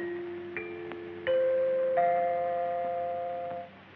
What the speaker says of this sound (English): When you hear the sound of the chime, the time will be 12 o'clock, midnight, Pacific Standard Time.